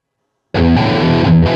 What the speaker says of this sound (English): So you notice I have a little bit of reverb on here.